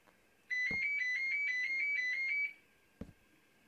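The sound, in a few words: telephone ringing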